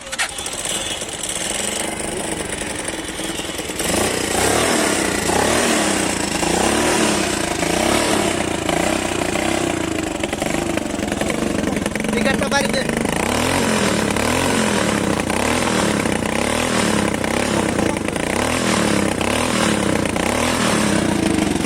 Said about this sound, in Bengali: তো বাইকটি একটু স্টার্ট করে সাউন্ড শুনবো আমরা